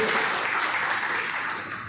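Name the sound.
church congregation applause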